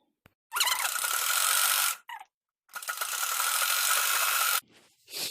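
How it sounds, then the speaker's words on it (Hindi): An electric sewing machine stitches a blouse sleeve in two sustained bursts of fast, whirring mechanical clatter separated by a short pause, close and loud, with faint handling noises between runs. "तो चलिए अब हम सिलाई लगाते हैं"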